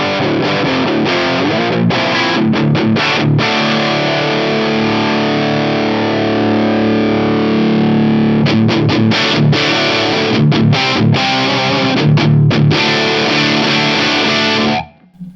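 Electric guitar driven through a Marshall Guv'nor distortion pedal with the gain turned up, thick sustained chords broken by choppy stops and rhythmic palm-muted bursts, loud and upfront with no talking until it cuts out at the end.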